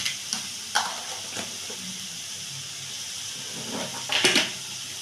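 Spice paste with ginger paste being stirred and fried in a pan for a potato and pointed gourd curry, a soft steady sizzle punctuated by several scraping stirs and a louder burst of spatter near the end.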